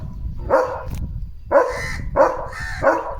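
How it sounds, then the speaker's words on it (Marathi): A German Shepherd barks four times at a crow, loud and close, spaced about a second apart with short quiet gaps between. "इथे बसलाय कावळा लिओ बंगतोय कावळ्याला"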